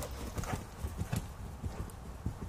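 A horse canters around a show-jumping course in a riding club training session, its hoofbeats thudding in a steady three-beat rhythm at close range, fairly soft, with faint background ambience.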